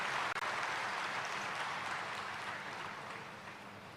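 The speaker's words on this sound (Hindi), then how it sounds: "डबल ताली बजाइए" Audience clapping at a Brahma Kumaris class gathering, a fairly faint, even wash of applause with no talk, tapering off slightly toward the end.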